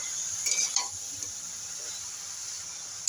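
Mixed vegetables with eggplant, green chili and tomato are sautéed in a pan: a steady hiss of frying, with a few stirring scrapes and clinks early on.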